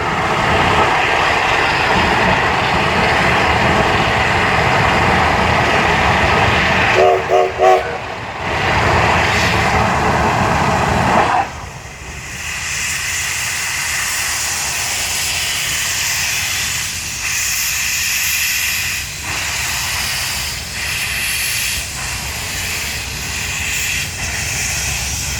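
Steam locomotive number 110 hisses at a depot, a loud, broad rush of steam that holds for several seconds, then cuts off and gives way to quieter, lingering hissing and background noise.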